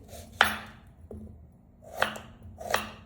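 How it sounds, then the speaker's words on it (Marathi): Onions being chopped with a knife on a cutting board in a home kitchen, heard as three sharp separate knife strokes spaced apart, each a short crisp thwack over low background hum. "कांदे कापून घेते"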